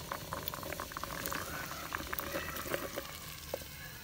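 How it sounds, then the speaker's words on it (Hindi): Cut okra frying in oil in a pan, a busy bubbling sizzle with small crackles and pops, close up and steady, no talking. "अब इसमें हम भिंडियों को फ्राई करते हैं।"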